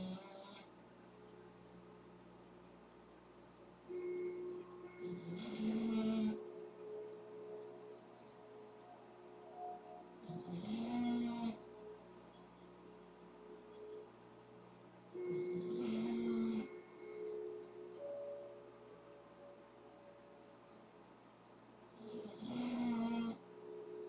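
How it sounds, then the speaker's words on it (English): A dog sleeping under a desk snores in a slow, regular rhythm, each breath a rasping rumble about every five seconds. The snores sound fairly close but quiet over a constant low hum in the room. "she's snoring underneath the desk. It's my dog."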